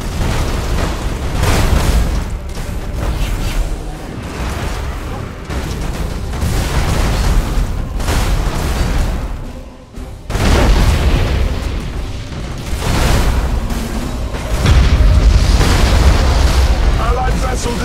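Spaceship explosions in Battlefleet Gothic Armada 2, with deep booming blasts rolling almost continuously at close range, one brief lull midway before the rumbling resumes, with voices speaking over the battle.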